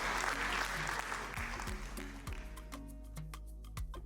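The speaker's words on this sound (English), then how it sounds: "Another round of applause for the First Lady of the Republic of Burundi" Audience applause for the First Lady of Burundi at the inauguration of a Merck Foundation Africa Asia event, a sustained crowd clapping that fills the room, with music and a faint voice mixing in beneath it.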